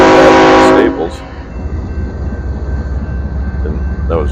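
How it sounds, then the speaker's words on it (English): A BNSF locomotive sounds a very loud, sustained horn blast near the track that cuts off after about a second. A low rumbling train passage follows, with a brief faint horn or squeal toward the end. "And that was a very loud horn blast."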